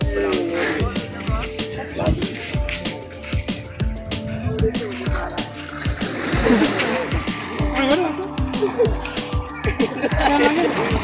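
Overflowing water of the Malir river splashing and sloshing, with irregular close splashes over a constant rush while people talk and shout nearby.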